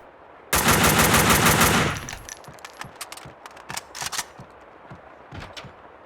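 Loud, rapid automatic gunfire from a weapon in the video game Max Payne 2, a dense burst of about a second and a half, then scattered clinks of falling shell casings and smaller clatter fading out.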